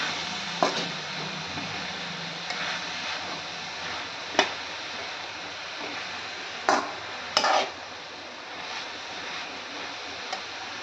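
Red amaranth greens cooking in a pan: a soft, steady sizzle with occasional scraping clicks and knocks from a spoon stirring, quiet and close with no voices.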